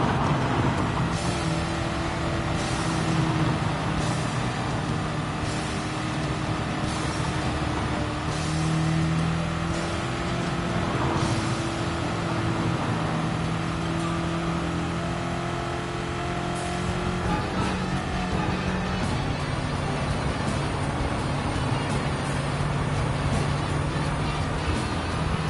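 A turbocharged Volkswagen Beetle racing in Gran Turismo 7, its engine droning steadily with shifting pitch as it revs and holds speed, loud and continuous throughout with faint talk beneath.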